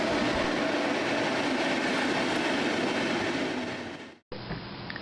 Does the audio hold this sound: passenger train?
yes